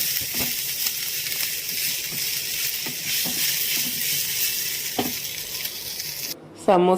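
A spoon stirs chicken samosa filling in a hot pan, giving a steady sizzle and hiss with soft scraping strokes throughout, close and continuous, and a brief voice at the very end.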